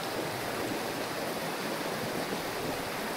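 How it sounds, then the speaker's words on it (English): Running water of a stream near an abandoned mill rushes in a steady, broadband wash, moderately loud and continuous with no talk over it. "I love the sound of running water"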